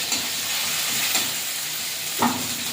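Onion, ginger, cumin and coriander paste sizzles and fries steadily in a pan, a continuous broadband hiss with brief louder bursts as the spices are stirred, heard close with no talking.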